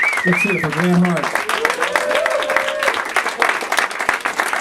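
Audience applause and cheering at the end of a live rock concert, dense steady clapping filling the room, with someone speaking over it through the PA.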